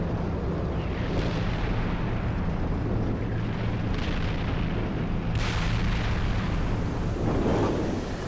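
Indirect artillery fire on the far side of a ridge in a military battle game, a continuous dense rumble of distant explosions with a sharper burst partway through, loud and unbroken throughout.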